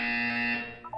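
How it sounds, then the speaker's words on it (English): A steady electronic buzzer tone from the video game Portal 2, sustained and fairly quiet, cutting off near the end as a few brief higher tones follow. "When you hear the buzzer, look down at the floor."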